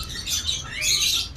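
Albino red-eye pet birds call inside a bird shop, high thin chirps and squeaks that rise and fall over a low background hum, close and moderately loud, without talk.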